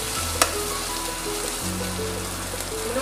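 Steady frying and sautéing in a pan on an induction cooktop for prawn biryani, browning to golden: a continuous dense sizzle with a brief clink, constant and close, no voices.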